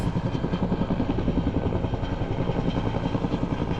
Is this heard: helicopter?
yes